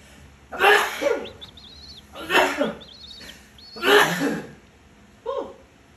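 Three small sneezes in a row, close and moderately loud, followed by a softer fourth, with faint chirping from young chickens in the background.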